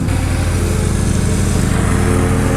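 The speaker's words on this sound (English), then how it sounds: "doing a good job over there mowing the yard" A lawn mower runs steadily through the whole stretch, a loud, continuous engine drone mowing a yard nearby with no pauses or speech.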